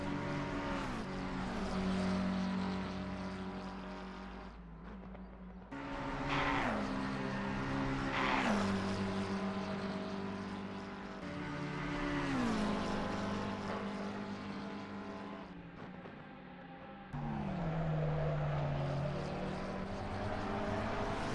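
Race cars from Assetto Corsa Competizione lapping the Nordschleife, a loud continuous engine drone with rising and falling pitch as gears shift and cars pass, several brief dips between sweeps, no voices.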